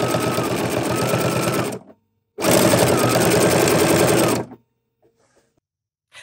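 Sewing machine running a quarter-inch patchwork foot for top stitching, two loud steady bursts of rapid mechanical whirring separated by a brief pause, then stopping into near silence with a few faint clicks.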